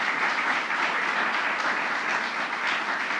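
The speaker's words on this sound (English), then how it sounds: "Another round of applause to our governor." Steady, dense applause from an audience saluting New York's governor at a morning event, a continuous even wash of clapping with no voices over it, moderately loud and sustained throughout.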